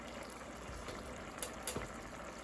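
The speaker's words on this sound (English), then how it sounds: "I'll go back over to my bubbling cauldron" Hamburger curry stew simmering in a pot, a faint steady bubbling and gurgling with a few soft pops and clicks, no talk.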